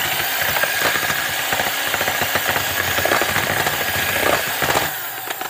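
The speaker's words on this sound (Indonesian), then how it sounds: "putih telurnya ini sebelum kita beri gula halus, ini kita kocok dulu hingga berbusa atau berbuih" An electric mixer whisks egg whites to a foam in a kitchen, a steady, loud, buzzing whir with rattling from the beaters against the bowl, cutting out near the end.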